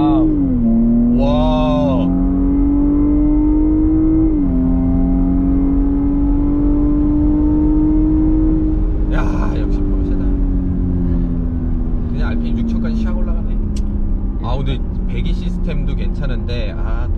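A Porsche Cayenne Coupe hybrid accelerates from inside the cabin, its engine note droning and climbing steadily with a brief shift, while people talk over it.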